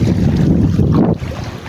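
Floodwater from the Sabarmati river rushes into a village with a loud, close, continuous roar and heavy wind buffeting, easing slightly toward the end, with no voices.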